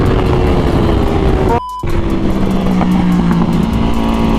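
An Aprilia RSV4 race bike engine drones at high revs on the Circuit of the Americas track, briefly cutting out, then resuming with a steady rising pitch as the bike speeds along.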